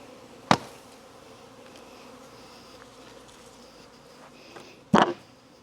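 A swarm of bees being combined beside the hives drones in a steady, close buzz, broken by two sharp loud knocks, one near the start and one near the end.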